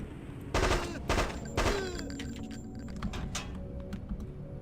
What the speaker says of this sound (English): The only thing about this shotgun is it's a single, for whatever reason, single shot pump action shotgun.